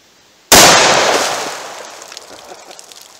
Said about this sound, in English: Let's try the 357 Magnum and see how that compares.